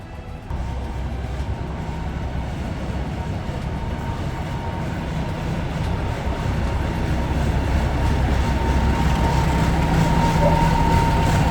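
Steady rumble of a train running on rails in Cambodia, bound for Kep Beach, a continuous low roar with faint rattling that builds slightly louder over time, no voices.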